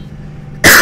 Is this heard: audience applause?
no